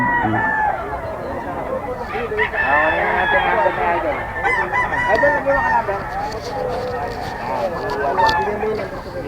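Roosters crow repeatedly at the Bocaue pet market, several overlapping cock-a-doodle-doos rising over a busy crowd murmur, fairly close, while people chat nearby.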